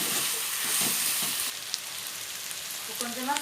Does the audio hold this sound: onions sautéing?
yes